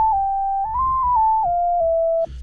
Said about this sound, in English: So for the synth lead, we got the solo sign lead.